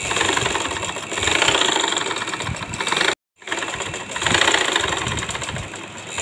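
A sewing machine stitching linen fabric, a rapid mechanical whirring clatter in two runs separated by a brief silent pause, close and fairly loud with no talk.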